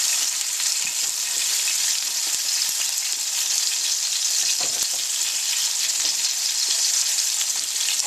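Salmon fillet searing skin-down in olive oil in a hot pan, a loud, continuous hissing sizzle that stays steady throughout with a few faint crackles and pops.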